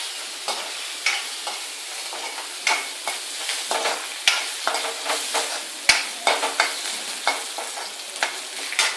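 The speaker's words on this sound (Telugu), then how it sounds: "పచ్చిమిరపకాయ ముక్కలు, వెల్లుల్లి ముద్ద వేసుకొని బాగా కలపాలి." Green chili pieces and garlic paste stirred in a pan for an onion-tomato moong dal sambar, with repeated scraping spoon strokes over a steady sizzle throughout and no talking.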